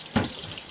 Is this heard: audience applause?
no